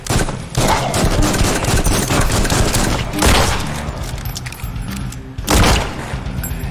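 Gunfire and a zombie bursting apart in the VR zombie shooter Zomday, a dense, continuous barrage of loud shots with two heavier booming bursts near the middle and end.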